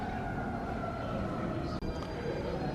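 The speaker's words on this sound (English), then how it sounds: "Oh, and I hear sirens." Sirens wail steadily in the distance beneath a dense wash of indoor crowd noise and murmur inside a police museum in Houston.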